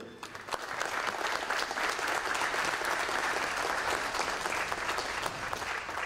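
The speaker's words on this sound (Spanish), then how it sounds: "Vamos a recibir con fuertes aplausos al señor congresista Omar Tejada Mori" Sustained applause fills an auditorium as a congressman is welcomed to the head table at a political reform forum, many hands clapping in a dense, even roar from start to finish with no speech over it.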